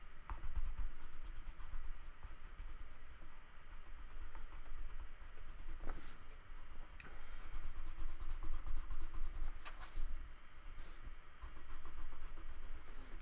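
A colored pencil pressed hard across paper and over black ink makes a faint, continuous scratchy rub with small irregular strokes, heard close up and alone.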